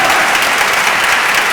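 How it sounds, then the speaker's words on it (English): Audience applause after a poetry reading at an evening literary event, steady dense clapping from a crowd filling the room throughout, with no talk over it. "Another round of applause"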